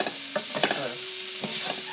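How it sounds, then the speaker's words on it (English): Chilli paneer sizzles and fries steadily in a pan, with stirring scrapes and crackling heard up close, alone without any talk. "So that's in the pan there. And just let it cook for a few minutes"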